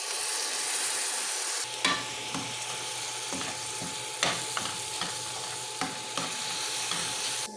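Tomato is stirred into onions frying in a pan for a shakshuka egg dish. A steady sizzle runs throughout, broken by periodic scraping knocks of the spoon against the pan.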